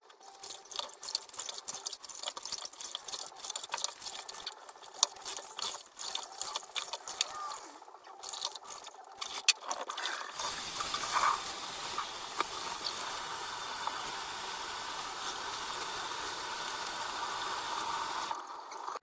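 A warm tap runs into a sink while a Papillon dog is rinsed, a hissing, splashing stream of water, uneven at first and then steady and fuller, stopping just before the end.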